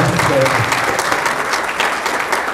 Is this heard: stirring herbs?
no